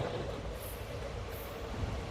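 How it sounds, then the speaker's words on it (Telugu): A steady, muffled rumble of a train rolling slowly along, with a constant hiss and no distinct clatter or voices. "ట్రైన్ స్లోగా వెళ్తుంది"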